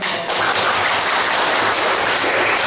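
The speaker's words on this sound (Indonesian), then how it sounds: "Tepuk tangan dulu." Students in a school classroom applaud during a morning physics lesson, a dense, steady wash of many hands clapping together at close range, loud and continuous without pause.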